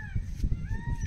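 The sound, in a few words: peafowl calling from the forest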